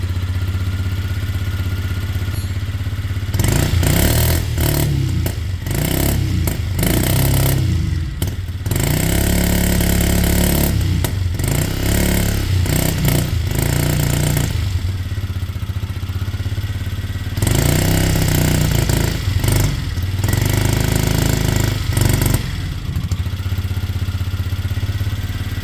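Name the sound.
scooter engine revving with choke on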